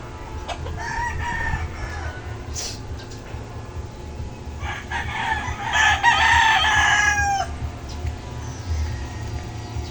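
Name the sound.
chicken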